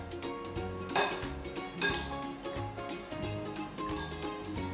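Two tomatoes with a little salt stirred together in a bowl, with soft clinks and scrapes of a utensil against the dish repeating through a steady background of music.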